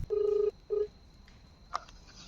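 Tones from a phone being dialed to reach the fire brigade: two short steady beeps, then a brief chirp, heard close and clear against a quiet background.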